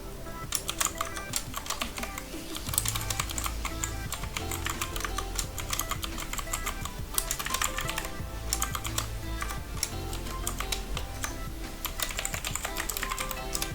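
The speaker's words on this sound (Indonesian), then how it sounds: "Di bagian kop tabel kita ketik langsung saja." Steady, rapid typing on a computer keyboard while entering table headers in Microsoft Excel, close and clear with dense irregular keystroke clicks throughout and no talk.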